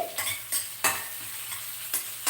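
Onions frying in a pan, a soft steady sizzle broken by several sharp scraping strokes of a spoon stirring them, spaced irregularly, with no voices.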